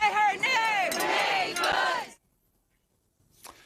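A crowd gathered at a Minneapolis memorial for Renee Nicole Good shouts and chants together loudly for about two seconds, then falls abruptly silent before faint voices return at the end.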